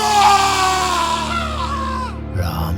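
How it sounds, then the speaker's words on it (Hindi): A man's loud, piercing scream in a Hindi horror story set at a brick kiln, shrill like breaking glass, a sustained wavering cry of almost three seconds over a steady low background drone. "जोर से चीखा, ऐसी चीख जैसे किसी कांच को तोड़ा जा रहा हो।"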